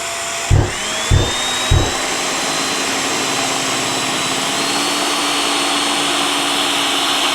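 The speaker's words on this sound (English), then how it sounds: "We can control the dust from drilling holes by using a tool like this that's designed to be a suction device connected to our HEPA vac" A drill bores a hole in tile while a HEPA vacuum runs through a suction attachment, giving three short thumps at the start and then a steady, loud whine and hiss that carries on alone.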